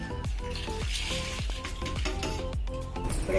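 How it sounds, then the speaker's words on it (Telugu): Roasted chillies pounded in a stone mortar for gongura pachadi: a steady series of heavy, dull thuds about every half second, close by, over continuous background music. "ఈ రోట్లో పోయి దంచుకోవాలి."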